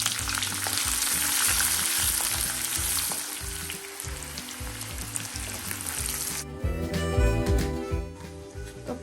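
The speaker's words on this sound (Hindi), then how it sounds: "तेल में डालूंगी एक प्याज, हरी मिर्च, जीरा, राई, करी पत्ता, तो ये सब मैं इस तेल में ऐड कर दूँगी" Onion, green chili, cumin, mustard seeds and curry leaves sizzle loudly in hot oil. The steady, crackling fry runs throughout and shifts to a lower, bubbling hiss partway through, with no voices.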